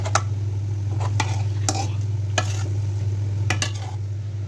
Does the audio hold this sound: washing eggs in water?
no